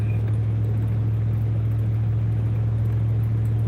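A car driving on the road, heard from inside as a steady low engine drone and road rumble, constant and unbroken, with no talking.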